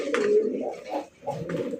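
Large fancy racer pigeons cooing up close, several throaty rolling coos in quick succession with brief pauses between them, no talk.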